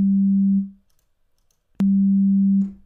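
Two clean, steady synthesizer sine wave tones, each held for about a second, separated by a pause of silence; the second starts abruptly and fades at the end.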